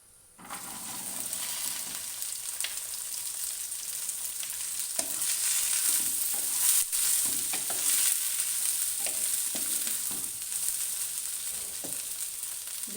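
Okra added to browned cumin in hot oil, frying with a bright continuous sizzle and repeated scraping stirs of a spoon in the pan, close and steady, with no talk.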